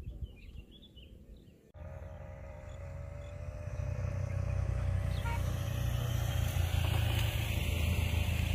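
Motorcycle engine on a misty mountain road in Dusun Butuh, Kaliangkrik, Magelang, a steady drone that begins abruptly and grows louder, with faint birdsong early on.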